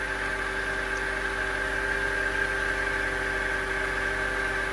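A 2002-2006 Honda CR-V engine idling after a water pump, belt tensioner and belt change, a steady, close hum with a constant whine and no squeal, unchanging for the whole stretch.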